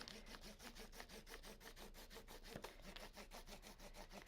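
A crayon is rubbed back and forth across a bumpy textured surface beneath quilt paper, making a quiet, steady scratchy rasping in quick repeated strokes, close up and alone.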